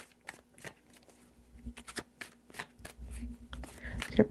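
Tarot cards shuffled by hand in quick, crisp riffling bursts with soft slaps between, close up, while a person speaks over the shuffling.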